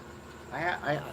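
A cat meows twice in quick succession, close by, each call rising and falling in a drawn-out whine.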